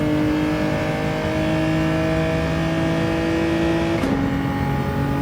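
A Genesis G70 GR4 race car engine at full throttle in Gran Turismo 7 on the Red Bull Ring, droning loud and steady with a sustained high tone, briefly dipping as a gear shifts near the end.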